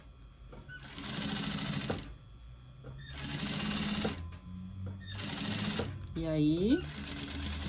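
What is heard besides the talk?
domestic sewing machine stitching a safety seam on a bag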